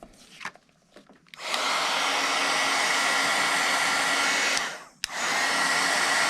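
Heat gun blowing on embossing powder on a card, a loud steady whooshing drone that starts after faint handling noises, cuts out briefly near the end and then resumes, close and alone.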